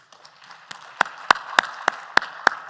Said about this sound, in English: can I just ask for one last round of applause for our panelists?